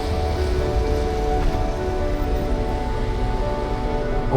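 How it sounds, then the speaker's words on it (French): Heavy rain with strong wind pours in a dense, steady hiss outdoors on a cold night on a hiking trail, loud and continuous with no voices. "Il pleut, il y a beaucoup de vent."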